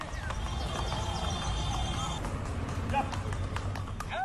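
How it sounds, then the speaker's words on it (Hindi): Hooves of a black horse under a young rider pattern lightly and quickly as it moves, half-buried beneath steady outdoor noise, with a few brief cries or calls in the background. "काले घोड़े की चाल देखिए"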